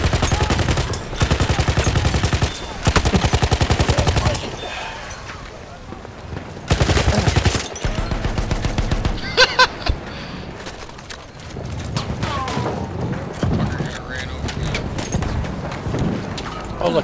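Rapid automatic gunfire in Battlefield 1 multiplayer, loud sustained bursts of shots broken by short pauses, with scattered single shots and distant battle noise beneath, a player talking over parts of it.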